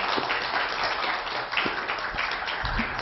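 At a gathering honouring a ninety-year-old retired scientist, the audience gives steady, moderately loud applause that carries on evenly throughout.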